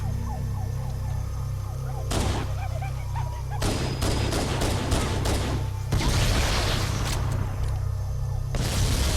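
Pistol fire against Covenant enemies in Halo: Combat Evolved, a quick run of sharp close shots and bursts mixed with alien weapon fire and impacts over steady background game noise.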